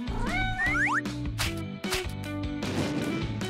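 A cartoon cat meows several times in quick succession, loud and close, with rising and sliding yowls over a busy animated soundtrack.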